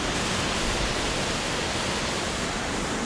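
Steady, dense roar of a waterfall near Guadalupe, Colombia, with close, full rushing water that holds an even level throughout and carries no voices.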